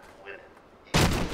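Sudden loud burst of sniper gunfire in Batman: Arkham Asylum, a sharp broadband crack that opens a dense, sustained barrage after a quieter stretch of game ambience.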